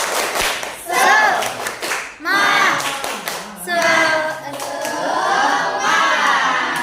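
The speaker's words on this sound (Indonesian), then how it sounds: "Oke, tepuk semangat." A class of children in a microteaching lesson does a rhythmic spirit clap, loud claps mixed with shouted, chant-like voices in short bursts that swell into sustained group cheering.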